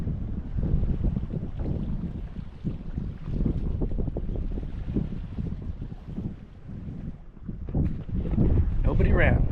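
Bali Catspace catamaran sailing solo on the open Caribbean Sea, with steady wind buffeting the microphone and water rushing along the hulls throughout, while someone talks over the noise.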